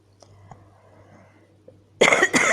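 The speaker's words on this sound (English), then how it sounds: "I still have this cough." A quiet room with faint clicks, then a sudden loud close cough near the end, a sharp double burst.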